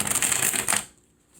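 Tarot cards are shuffled for a reading: a close, quick riffling flutter lasting under a second before trailing off.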